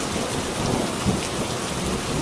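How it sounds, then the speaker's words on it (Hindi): Heavy rain pours in a cartoon village scene, a dense constant roar of downpour with low rumbling thunder beneath, loud and steady throughout with no voices. "गांव में भयंकर बारिश शुरू हो गई।"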